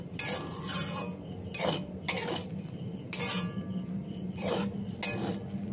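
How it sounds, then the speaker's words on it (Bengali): Semolina being mixed with lemon juice in a pan for spicy jhal suji, heard as repeated scraping and clinking strokes of a utensil against the pan, about six bursts in a steady rhythm, close and alone. "খুব ভালো করে সব কিছুকে মিশিয়ে নিতে হবে।"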